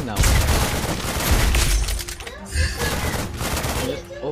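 Rapid bursts of gunfire from Lesley's gun in the Mobile Legends video game crackle loudly and continuously with sharp impacts, and voices are partly audible underneath.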